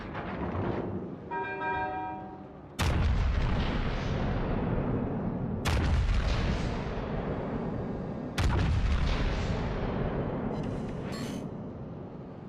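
Warship naval guns fire in World of Warships: Legends, heard as three heavy booming salvos spaced a few seconds apart, each followed by a long rumbling decay, with a brief horn-like tone before the first.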